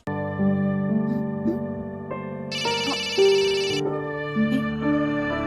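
A melodic phone ringtone plays loudly and continuously, its tones repeating in a steady electronic pattern with a brighter burst partway through.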